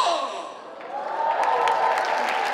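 An audience at a motivational lecture bursts into applause, a soft wash of clapping that swells and holds steady, with some murmuring and reactions mixed in.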